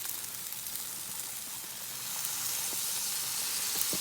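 Soy sauce hissing on a hot Blackstone griddle alongside beef lo mein, a close, steady bright sizzle that swells a little louder partway through, with no talking.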